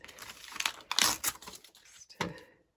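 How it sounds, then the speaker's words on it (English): Close, quiet rustling and crisp slicing of paper in a few short bursts as a craft knife cuts through a sheet, then silence. "use your craft knife or scissors"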